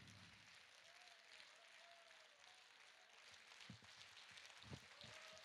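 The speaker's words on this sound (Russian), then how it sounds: "под ваши аплодисменты давайте пригласим нашу легендарную Наталью" Concert-hall audience clapping to welcome singer Natalya Varley onstage, a soft, distant and steady wash of many hands that swells slightly toward the end.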